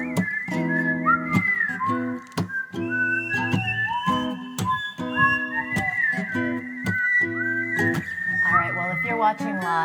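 A person whistles a lively melody close up, with clear sliding pitches and rapid trills that run steadily through the whole stretch, while other sounds sit faintly underneath.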